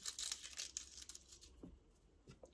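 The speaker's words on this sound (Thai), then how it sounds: "ก็ขยำเปลือกทิ้งลงไปเลยจ้ะ" Eggshells are crumpled by hand and dropped in while making fermented egg fertilizer, a faint close crackling and crinkling of brittle shell in quick uneven bursts, fading toward the end.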